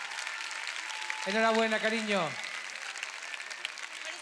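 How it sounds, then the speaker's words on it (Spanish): An audience at a carnival drag gala in Corralejo applauds in a continuous wash of clapping, while a voice speaks briefly over it. "es el aplauso de toda esta gente que te quiere y que te aprecia muchísimo"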